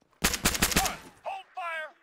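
Rapid burst of gunshots in ARMA 3 close-quarters combat, several sharp cracks over about a second, followed by brief voice-like chatter.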